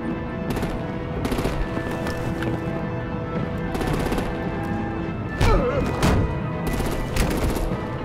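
Rapid automatic gunfire in a Batman Telltale game, with repeated bursts of shots and a couple of heavier thuds over a dense, continuous action soundtrack.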